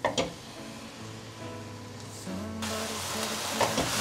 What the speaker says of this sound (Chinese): 把所有调味料炒匀